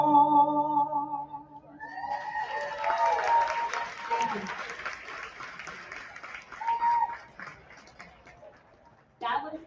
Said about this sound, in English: Let's give Kashana another round of applause.